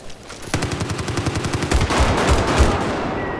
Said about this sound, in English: I've spotted a hostile machine gunner due west of your position.